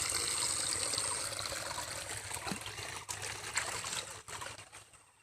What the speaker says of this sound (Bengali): এই যে এ জলটা জলের দিকে যাবে এটা ধানে যাচ্ছে